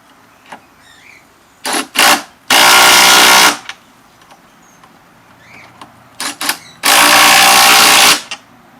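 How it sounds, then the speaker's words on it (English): A Makita DTD171 impact driver runs nuts onto bolts in two rounds, each opening with short trigger blips before a loud sustained rattling hammer burst of about a second, close and alone. "My apprentice will now demonstrate putting nuts on bolts with the impact driver."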